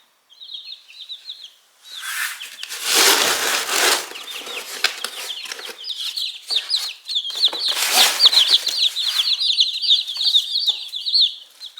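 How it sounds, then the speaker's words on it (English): Young laying-flock chicks in a cage chirp with high, rapid peeps, mixed with loud rustling, scuffling and wing flaps close by. "The new chicks that we have for our laying flock have been moved to a new cage"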